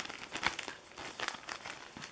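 An IKEA plastic bag is crinkled and handled in quick, uneven bursts of rustling, soft and close, with no talking.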